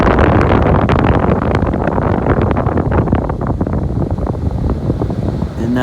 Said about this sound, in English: Air is coming out of there beautifully, so that defroster motor is working.